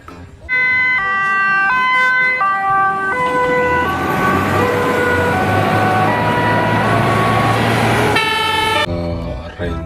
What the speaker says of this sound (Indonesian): Yang ini ada mobil pemadam kebakaran besar ya.